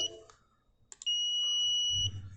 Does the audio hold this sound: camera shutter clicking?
no